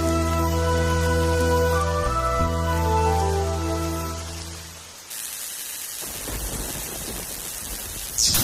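Heavy rain with thunder in a Hindi film: a sustained tonal music-like drone gives way to a dense, hissing downpour that continues steadily to the end.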